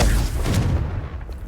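A Confringo fire-blast spell from Hogwarts Legacy goes off as a single loud, close booming explosion that fades over about a second, with no talk over it.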